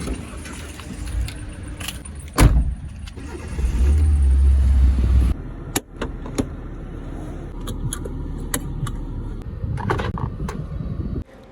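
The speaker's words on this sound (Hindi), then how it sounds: "जिस तरीके से गाड़ी होती है स्टार्ट, उस तरीके से करी गाड़ी स्टार्ट" A car being started before a grocery run: keys jangle, the engine turns over and catches, then settles into a low idle while small clicks and rattles sound close by.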